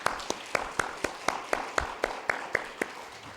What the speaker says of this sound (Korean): 오늘 이곳에 참석한 우리 아버지들께 한번 힘찬 박수 한번 보내드리십시다.